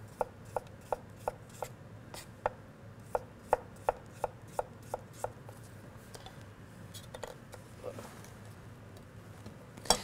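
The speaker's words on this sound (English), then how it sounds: "So you just slice off the end, slice off the other end, cut it in half, and then just thinly slice it" Thin slices of radish being cut on a cutting board, a quick run of crisp, evenly spaced knife chops that thins out and goes irregular toward the end, over a faint room background.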